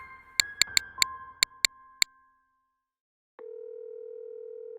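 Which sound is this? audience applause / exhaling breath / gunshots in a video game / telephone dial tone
telephone dial tone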